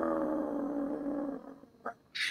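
A man imitates a dog with a sustained low growling, rumbling voice that fades out, followed by a short yip-like burst and a faint breathy noise at the end.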